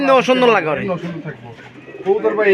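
Racing pigeons coo at close range while someone talks over them, their low throaty calls mixing with his voice throughout.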